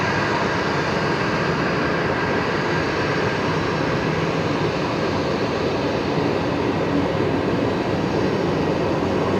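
An aircraft taxiing at Brisbane Airport, a steady, broad engine roar heard from a distance, constant in level throughout with no talking.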